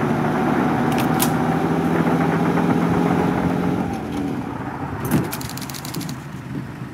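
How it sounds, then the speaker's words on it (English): A military lorry's engine rumbles steadily as it pulls up in a wartime 1944 setting, a loud low drone that drops in level partway through, with metallic clinks and rattles near the end. "All right, chaps, the lorry's here."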